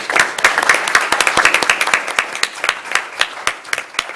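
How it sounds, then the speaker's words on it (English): A council-meeting audience gives a round of applause, dense clapping from many hands that stays steady before thinning into scattered claps near the end. "if you can help me just give them a round of applause"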